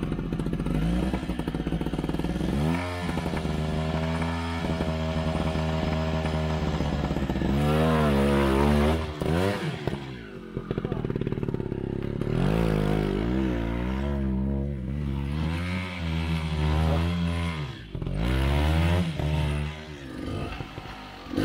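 Hard enduro motorcycle ridden on a backyard training track, its engine snarling loudly and close with repeated revving surges and throttle blips as the front wheel lifts, continuous throughout.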